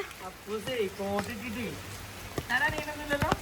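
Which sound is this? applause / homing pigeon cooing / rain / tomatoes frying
rain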